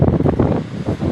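Strong ocean waves surge against the shore during Typhoon Uwan, heard as a brief, loud, close rush thick with buffeting wind noise.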